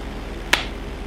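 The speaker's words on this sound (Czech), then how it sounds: "Já ti zatleskám." A single sharp hand clap, close and crisp, standing alone against a quiet background.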